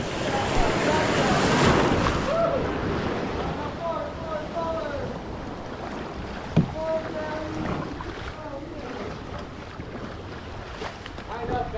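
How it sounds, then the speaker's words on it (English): A paddled boat moves backward through ocean waves, with water splashing and surf rushing against steady wind noise on the microphone, and voices speaking over it. "Back paddle as hard as you can."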